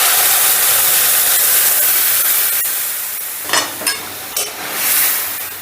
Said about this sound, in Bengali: ডালটা ঢেলে দিলাম